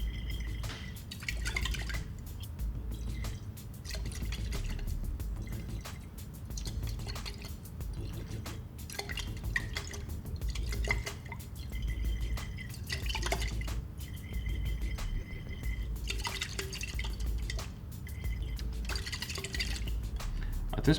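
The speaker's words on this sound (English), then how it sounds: "I'm going to slowly add sodium thiosulfate solution until the solution turns a straw yellow colour, while constantly swirling." Sodium thiosulfate solution drips from a burette into a swirled water sample in a glass flask, with many small, quiet drips and clinks repeating irregularly over a faint background hum.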